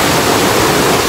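Twin Falls, a waterfall, roars as a dense, loud, steady wash of falling water close by, unbroken for the whole moment.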